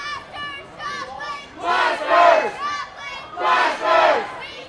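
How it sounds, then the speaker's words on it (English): A rowdy minor-league baseball crowd in Joplin, Lemurs visiting the Blasters, shouts and cheers in loud repeated surges, many voices chanting and yelling together close by. "Fans here are being rowdy today"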